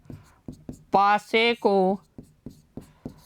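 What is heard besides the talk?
writing the solution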